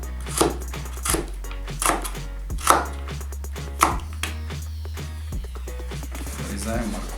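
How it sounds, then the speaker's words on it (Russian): A knife chops a carrot into thin julienne strips on a cutting board, with sharp, evenly spaced strikes that come near and clear, pausing now and then, over a steady low hum. "Те, кто не знает, как шинковать морковку, я сейчас продемонстрирую."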